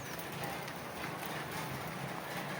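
Sudden heavy rain pouring down outdoors, a dense, steady broadband hiss of drops drumming on surfaces with no clear break.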